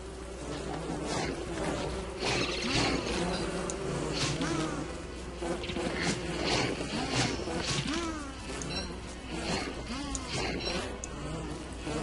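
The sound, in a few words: killer bees buzzing in the video game Don't Starve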